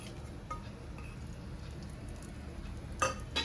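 A quiet, steady sizzle of chicken curry frying, with faint scraping and a couple of light metallic clinks from a spoon against a pan as fried onions are added.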